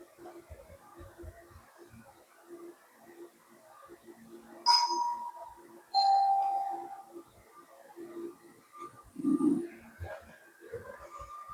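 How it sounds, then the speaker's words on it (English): A home doorbell chimes twice, a bright ding and then a softer dong, ringing out clearly over a quiet room during a camera repair, with light handling clicks and a low thud afterward. "there is a doorbell"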